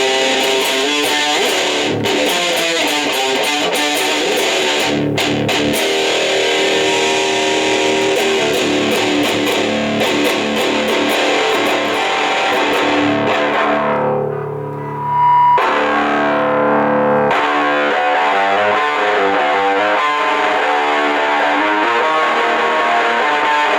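A Behringer Ultra Metal UM300 distortion pedal drives a heavily distorted electric guitar riff while the mid knob is swept, the tone shifting with a vocal, wah-like sweep; a brief dip midway, loud and dense throughout.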